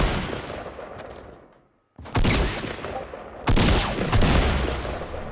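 Gunfire in the battle royale game Fortnite, loud dense bursts of shots that fill most of the clip, broken by a brief near-silent gap before firing resumes twice more intensely.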